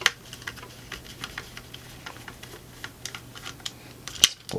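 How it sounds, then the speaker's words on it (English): A screwdriver unscrews a screw on a Boomco Halo Brute Spiker toy blaster, making a run of small, close, irregular ticks and clicks, with one louder click near the end. "Grab your screwdriver. Unscrew this right here."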